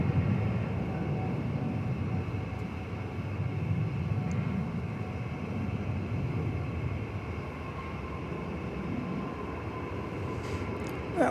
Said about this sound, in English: That was American Flight 1880 coming in from Las Vegas, an Airbus A321